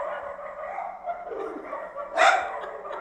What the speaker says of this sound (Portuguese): Isso não são os cachorros daqui de casa, não. São os cachorros na rua. Olha o tanto de cachorro na madrugada.